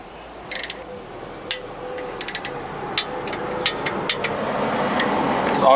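Ratcheting clicks of a torque wrench set to 40 newton meters as a bolt is tightened, short bursts of close metallic ticks followed by a rising mechanical whir.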